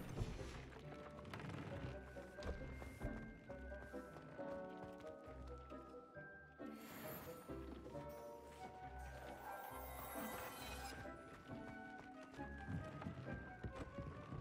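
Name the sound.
horse hooves clip-clopping in video game Hogwarts Legacy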